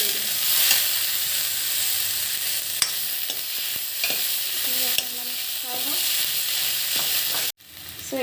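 Ginger, garlic, chillies and tomatoes frying in a pan give a loud, steady sizzle with occasional stirring scrapes, close by, before a brief sharp cut and a quieter moment at the end.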